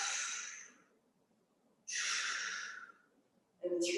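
Three slow, deep breaths, close to the microphone, each a soft airy exhale followed by a pause, taken while holding a kettlebell stretch.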